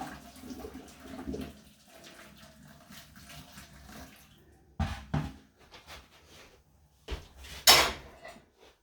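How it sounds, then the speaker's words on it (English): Noodles boiled for eight minutes are tipped out to drain, giving a few short bursts of pouring water and clattering pot or colander sounds between quiet stretches, fairly close and faint overall. "So I cooked my noodles for 8 minutes, and I'm just going to drain those."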